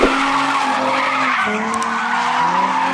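A drifting car slides with tires skidding and squealing continuously, engine tone rising and falling over three seconds of loud, close tire screech during drift practice.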